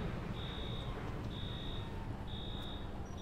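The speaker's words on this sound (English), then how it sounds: "The green light's beeping!" Green light in the video game INFRA beeping, three evenly spaced, sustained high electronic tones over a steady low background hum, with no talking.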